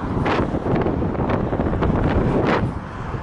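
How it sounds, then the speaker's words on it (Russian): Strong headwind buffets the microphone of a cyclist riding a vintage Soviet Start-Shosse road bike along a highway, a loud, steady roar of wind noise with gusting surges throughout. "Еду прямо на ветер."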